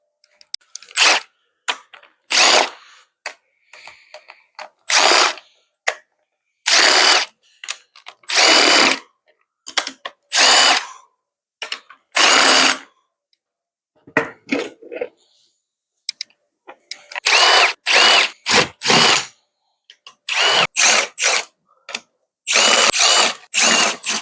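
Power tool, likely an impact driver or drill, removing the valve covers from a Mercedes M113k supercharged V8 engine, heard as repeated short loud bursts with pauses between them, close up and with no talk.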